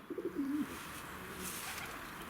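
A five-year-old racing pigeon hen gives a single close, soft cooing phrase, a low rolling burble lasting about half a second, then quiet room ambience.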